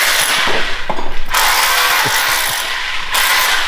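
Close, loud whir of a power tool, with a burst of ratcheting clicks, pausing briefly and starting up again; nobody talks.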